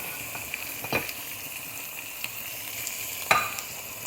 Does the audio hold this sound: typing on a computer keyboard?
no